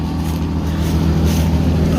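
An old combine harvester's engine idles after a cold start, warming up with a loud, steady low rumble and chugging throb heard close by, with no pauses.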